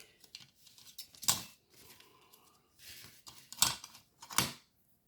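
Paper is folded and creased by hand to make a decorated flower envelope, a few crisp sharp crackles and rustles, close and quiet between soft handling noises.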